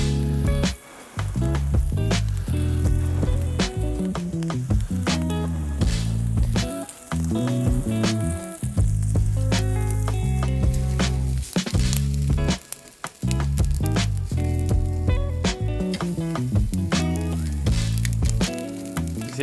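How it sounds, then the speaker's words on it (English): Secreto ibérico pork sizzling on a hot salted grill, a dense, continuous crackle and hiss spattered with sharp pops, steady and close throughout. "Salt on the grill, hot grill, and you're cooking it till you get a nice colour"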